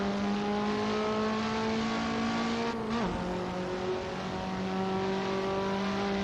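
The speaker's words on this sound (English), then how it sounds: "You can hear me locking up the tires." KTM X-Bow race car engine in a sim racing game at Laguna Seca, a steady loud drone with a brief pitch dip as the tires lock up under braking, no talking.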